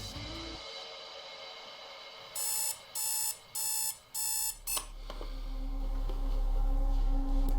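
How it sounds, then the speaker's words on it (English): An old mechanical alarm clock rings in four loud, shrill bursts with short gaps between them. Clicks and a rising low rumble follow. "My old trusty alarm clock."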